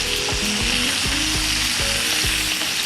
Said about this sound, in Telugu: వేయించుకుని మళ్ళీ సెపరేట్గా వేయించుకొని సపరేట్గా పక్కన పెట్టేసుకొని.